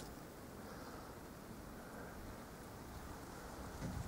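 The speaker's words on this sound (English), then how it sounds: "Feel that cold wind, it's becoming wintry." Cold, wintry wind blows steadily outdoors in a garden of Kalahari horned melon plants, a low, continuous rushing hiss with slight microphone buffeting and no speech.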